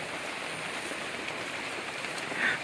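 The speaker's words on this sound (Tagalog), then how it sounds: "Grabe ang ulan, Ginoo ko gahapon hangtod karon." Heavy rain pours down in a dense, steady hiss that stays unbroken and loud throughout, with no other sounds standing out.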